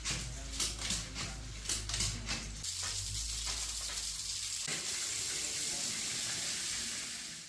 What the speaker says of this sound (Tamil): இப்போ நம்மளுக்கு டேங்க்கில் ப்ரெஷர் எந்தளவுக்கு வருதுன்னு பாருங்கள்.